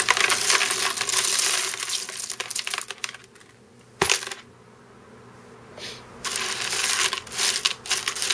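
Tumbled coins found by metal detecting in Hawaii, cleaned of crusted sand, jingle and clink as they are handled and dropped, bursts of metallic rattling separated by quiet pauses and a sharp single clack, close and loud.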